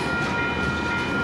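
A freight train rolls past steadily, its broad, continuous rumble and rail noise filling the sound evenly from start to finish, loud and close, with no voices.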